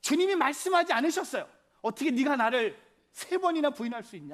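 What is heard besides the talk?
None of the usual background noises is heard.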